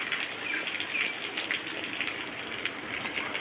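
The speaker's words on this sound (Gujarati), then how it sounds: "ધીમી ધારનો વરસાદ છે, પણ સારો વરસાદ પડી રહ્યો." Light, steady monsoon rain hissing continuously over a village, with a few faint chirps poking through the wash of drops.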